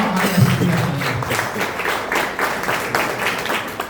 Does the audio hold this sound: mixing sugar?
no